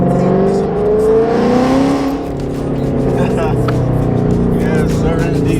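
Blue Dusty, a car pulled out of garage neglect, revs and drives down a street, its engine droning loudly with a shifting pitch while someone talks over it.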